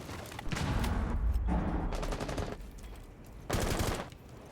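Rapid bursts of automatic gunfire from a Rainbow Six Siege esports match, loud and close, firing in several separate volleys with brief pauses between them.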